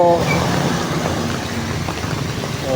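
Steady traffic on a rain-soaked two-lane national highway on Christmas Eve, engines and tire hiss blending into a continuous, close roar with passing vehicles, and no talking.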